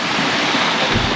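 Steady broadband wind and rain roar outdoors on Kalanggaman Island, a dense continuous wash with gusty swells and no voices.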